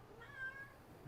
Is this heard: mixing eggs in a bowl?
no